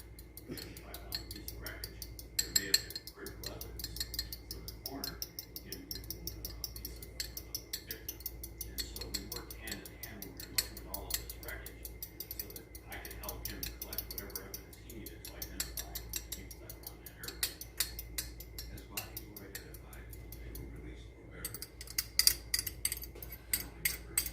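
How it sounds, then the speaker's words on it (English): Quick rhythmic whisking in a bowl, a steady run of close clicking and tapping strokes for a meatball and spaghetti sauce recipe, with speech heard now and then over it. "And whisk this up"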